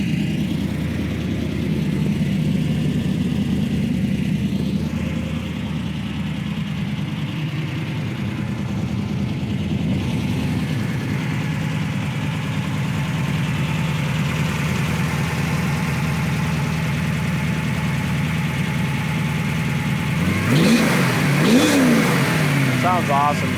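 A 1966 Chevy Nova Pro Street build with a Corvette 327 engine, warmed to temperature, holds a steady loud idle, rising into a few sharp revs near the end.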